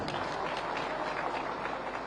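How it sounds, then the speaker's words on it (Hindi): Party workers at a political rally in Bihar clap in dense, continuous applause, a broad crowd sound sustained evenly throughout with faint voices mixed in. "आप सब लोग जो ताली बजा रहे हैं"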